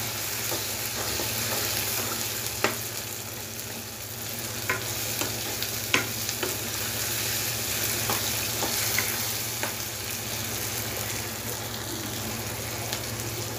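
Small onions sauté in a pan for kuzhambu with a steady, close sizzle that carries all the way through. Occasional sharp scrapes and taps of a spatula break in as they are stirred.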